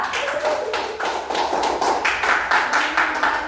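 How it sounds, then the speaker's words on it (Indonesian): A class of students clapping for a student group in a classroom, a steady patter of hand claps that keeps going for a few seconds at fairly close range, with a faint murmur of voices underneath. "tepuk tangan untuk kelompok 2"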